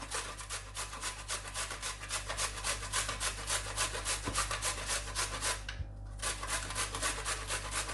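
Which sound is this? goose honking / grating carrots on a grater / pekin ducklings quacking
grating carrots on a grater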